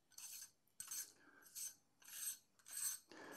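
Five short rasping scrapes of a lugged metal front ring being unscrewed from a Lee SW150 filter holder, close and quiet, in regular twisting strokes.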